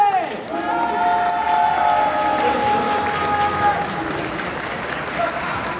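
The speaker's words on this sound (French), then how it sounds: "faire un tonnerre d'applaudissements pour nos concurrents" An audience at a geek convention awards ceremony applauds and cheers for costume contestants, with sustained clapping and crowd noise under whistle-like tones and faint voices.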